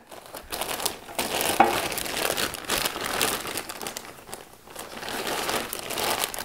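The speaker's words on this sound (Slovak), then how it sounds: "To sú obyčajné kávové papierové filtre." Ordinary paper coffee filters crinkle and rustle as they are handled, giving a continuous close crackling that rises and falls for several seconds with brief pauses, loud and with no talk.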